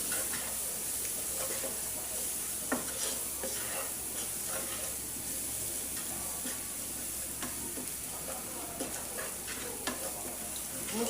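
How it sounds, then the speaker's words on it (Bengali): Spices frying in a pan for a potato and egg curry: a steady sizzle with scattered stirring scrapes and clicks, moderately close. "মশলাটা একটু ভাজা ভাজা করে নিলাম।"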